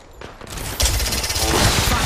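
Gunfire during an Apex Legends match, a dense rapid burst of shots that swells loudly after a quieter opening, with no voices over it.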